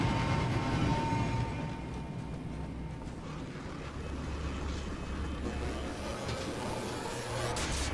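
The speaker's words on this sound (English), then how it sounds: "Train going overhead." A train rumbles past overhead in the video game Wolfenstein: The New Order, a steady low rolling drone with clanking texture that stays fairly quiet and continuous throughout.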